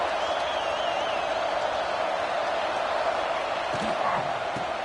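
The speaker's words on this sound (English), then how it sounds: "this home crowd is fired up and ready to make a difference today" Home crowd at a college football game against Fresno State, a dense steady roar of cheering that fills the stadium, with a commentator's voice faintly underneath.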